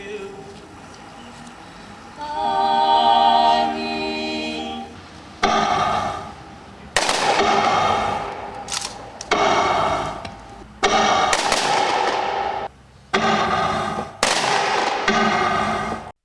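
At a memorial ceremony in Zhytomyr, Ukraine, after a brass fanfare, a series of loud gun salute volleys rings out at intervals, each blast followed by echoing decay.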